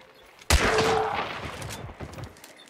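One loud, sudden gunshot in the game Hunt: Showdown, followed by a booming echo that slowly fades over about two seconds, with no one speaking.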